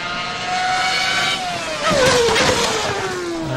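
A Formula RSS 2010 V8 racing car engine in a video game screams at high revs, its pitch sliding down as it shifts and passes, loud and unbroken, with no talking.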